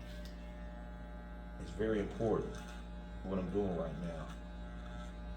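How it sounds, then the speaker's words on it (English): Electric hair clippers during a disguise haircut give a steady low buzzing hum throughout, with someone talking over it. "I'm gonna have my clippers together better than this, y'all. I'm sorry about that buzzing noise."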